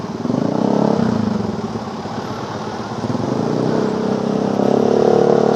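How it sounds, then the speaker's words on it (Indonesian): A noisy motorcycle passes on a road during a morning commute from Bekasi to Jakarta, its engine rumbling loudly and close, easing off and swelling again as it goes by. "ada motor yang cukup berisik seperti biasa"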